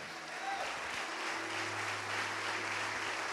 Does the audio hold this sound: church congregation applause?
yes